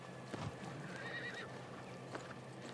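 A horse in the video game New World Aeternum neighs with a fairly loud whinny, along with clip-clop hoofbeats, over a steady background of game ambience.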